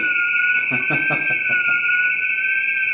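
An indoor fire alarm sounds continuously as a loud, steady high electronic tone, with a voice speaking briefly underneath it.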